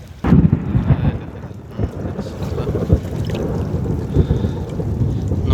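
Deep rolling thunder rumbles through a storm over the Padma river at night, heard from a boat, with steady rain and wind noise sustained throughout.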